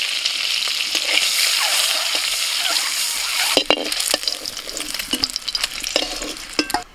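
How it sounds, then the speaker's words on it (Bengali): Boiled eggs fry lightly in a pan with a pinch of turmeric, giving a bright, steady sizzle that breaks into spatters and clinks of stirring toward the end. The sound is close, with no speech. "এবার ডিমগুলোকেও হালকা করে ভেজে নেব।"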